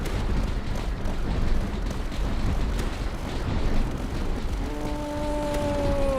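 Light mortar explosions in the strategy game Tower Dominion rumble as continuous low booms and blasts, with rising tonal game effects cutting in near the end.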